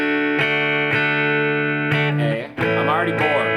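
Sustained guitar chords strummed up close, with a sharp new attack about every half second and a bend or slide partway through. The tone sounds processed and the chords ring densely, with no clear speech.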